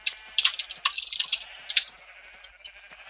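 Sheep in the Minecraft video game bleat in several quick, overlapping bursts, fairly close and bright, with small pauses between calls and no talk over them.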